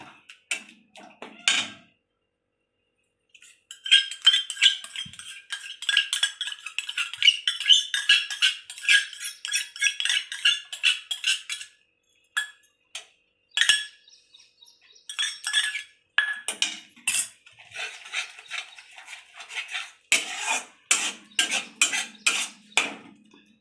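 Yogurt whisked with spices in a bowl, close-up rapid metallic clinking of a utensil against the bowl in repeated bursts with short pauses, no talk.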